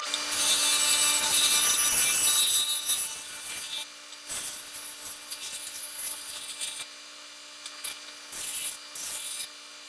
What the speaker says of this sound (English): So let me take it to the sander here. We're going to round off the edge.